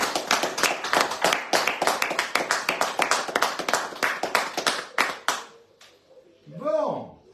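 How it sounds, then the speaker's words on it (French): A crowd claps hands together in a rapid, steady burst of many overlapping claps that continues, then thins and stops, followed by a brief voice. "mais nous on les applaudit tous les vendredis."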